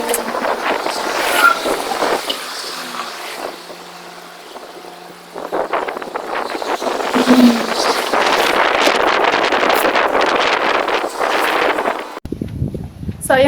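Steady wind buffets the microphone throughout while walking near Kennedy Town, Hong Kong, a broad rushing roar under intermittent talking and footsteps, briefly cutting out near the end.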